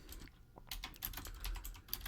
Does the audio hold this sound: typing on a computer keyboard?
yes